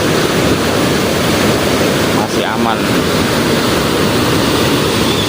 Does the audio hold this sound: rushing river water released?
yes